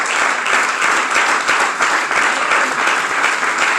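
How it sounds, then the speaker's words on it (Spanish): A church congregation claps loudly and steadily during a sermon, a dense continuous roar of many hands filling the room without pause. "Dale fuerte el aplauso a Cristo"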